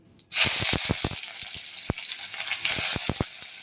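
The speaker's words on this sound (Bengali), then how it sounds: "পেঁয়াজ কুচি দিয়েছি একটু ভাজা ভাজা করব" Chopped onion drops into hot oil and bursts into a loud sizzle, with crackling pops and spoon scrapes breaking through the steady frying hiss.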